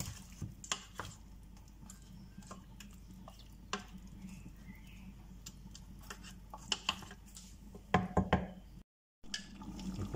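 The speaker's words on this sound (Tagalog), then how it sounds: "Durugin po natin yung kamatis." Tomatoes crushed with a utensil inside a cooking pot for a chicken and carrot soup give faint, scattered knocks and clinks against the pot, with a small cluster of sharper taps near the end.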